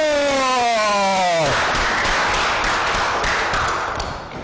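Applause breaks out loudly for Mayor Ernei Stahelin at a roundtable event, dense steady clapping that follows a short voice and holds strong before easing slightly at the end.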